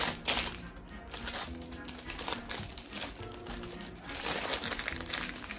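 Crinkly plastic packaging around a loaf of bread being handled and pulled at, loud close crackling and rustling in irregular bursts throughout, with no talking.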